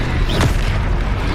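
A Confringo fire spell in Hogwarts Legacy goes off as a loud, dense blast with a brief whooshing burst early on, sitting inside a heavy continuous rumble of game effects.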